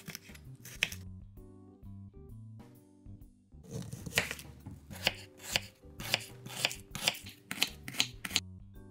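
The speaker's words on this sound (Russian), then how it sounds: "Чеснок старайтесь нарубить очень мелко." Knife finely chopping garlic on a board for Thai-style pork, producing a close run of quick, rhythmic chopping taps that grow sharper and more regular toward the end.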